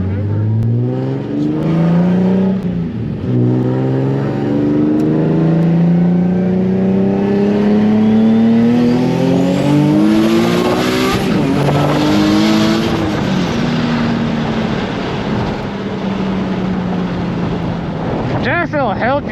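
A turbocharged Nissan 350Z accelerates hard from inside the cabin, its engine note rising in pitch through the gears with clear drops at each shift, loud under heavy wind noise, with voices briefly audible.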